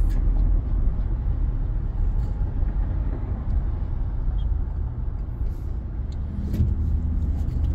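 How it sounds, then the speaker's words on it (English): Dense multi-lane freeway traffic rolls past in a continuous loud roar of engines and tires, steady for several seconds with a brief swell near the end and no talking. "There's a lot of traffic."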